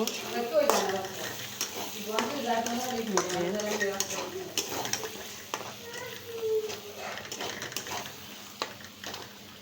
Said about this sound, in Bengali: এখন এটাকে ভালোভাবে নাইড়া চাইড়া মিশিয়ে নিব